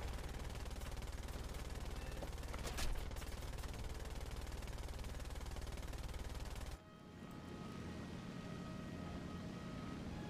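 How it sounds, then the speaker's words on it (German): Rapid machine-gun fire from an aircraft gunner in War Thunder, a dense continuous chatter over roaring engine noise for several seconds, then cutting off abruptly to a quieter engine drone. "Bordschütze schießt frontal auf mich zu."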